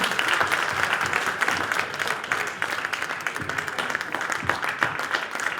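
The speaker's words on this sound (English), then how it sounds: "A big round of applause" A crowd at a Hindu temple cultural gathering bursts into steady applause after a million-dollar donation is announced, many hands clapping densely and continuously at moderate volume without a break.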